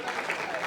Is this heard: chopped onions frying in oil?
no